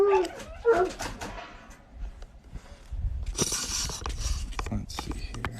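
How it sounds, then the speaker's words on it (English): Several household dogs bark and yip excitedly in a home, starting faint and growing into a loud, busy burst of barking near the end, with some movement and a voice speaking early on. "My wife done set off the dogs."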